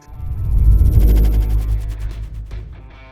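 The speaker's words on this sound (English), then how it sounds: "If your AC sounds like this, don't ignore it." Outdoor air conditioner condenser unit making a mechanical noise, a heavy low rumbling drone with rattling that swells and fades over about three seconds, close and loud with no talk.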